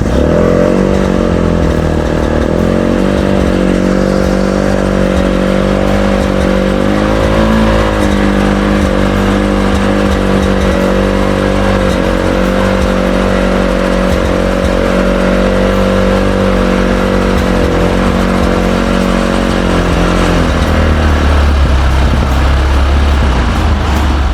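A 300cc cargo dump-truck motorcycle engine runs loud and close, a steady rumbling drone with slight revving shifts, then pulls away as it drives off near the end, no talk.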